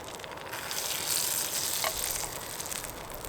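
Butter sizzling in a frying pan, a close, continuous hissing fry that swells slightly and then holds steady, with no talking.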